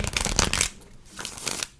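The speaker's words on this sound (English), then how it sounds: "I'm going to go ahead and just in between do a little shuffle here." Tarot cards being shuffled by hand in a few quick riffling bursts, loud and close, with a quieter stretch of softer card handling in the middle and no talking.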